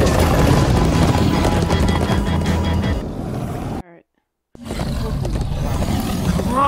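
Horses in Minecraft Story Mode pound rapidly in a loud galloping rush, with a roar and whinnying, a brief silent gap, then the galloping resumes.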